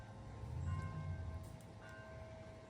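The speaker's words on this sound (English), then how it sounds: "Hear the church bells?" Church bells ring faintly in the distance, their sustained tones hanging over a low background rumble.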